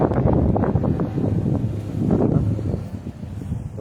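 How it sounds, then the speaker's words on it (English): Gusty outdoor wind roars and buffets the microphone in uneven surges, fairly loud and steady. "It's kind of windy out here."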